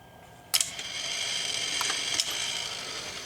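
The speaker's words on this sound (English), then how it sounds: "that solenoid pulls, and that one" Solenoids in a Revox A77 reel-to-reel tape recorder clack in sharply, one sharp mechanical snap followed by a couple of softer clicks over a steady motor hum, close and fairly loud.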